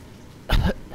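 A single feeble cough, close and brief, with a throaty double burst after a moment of quiet.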